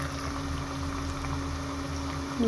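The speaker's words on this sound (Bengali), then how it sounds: "এখন আমি রসুনটাকে ভালো করে নেড়ে চেড়ে তেলের মধ্যে ভাজা ভাজা করে নেব" Garlic paste frying in oil in a pan makes a steady, close, bubbling sizzle at an even level with a low hum underneath, no talk.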